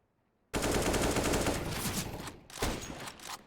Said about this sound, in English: But TM Bro responding just moments later with 2 AK headshots there at DD